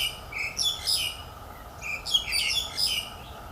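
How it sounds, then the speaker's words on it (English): Small birds chirp and tweet among a row of garden plants, with two bursts of bright, quick calls standing out against a quiet outdoor background. "So I've only seen a couple birds, but I've heard a lot of them."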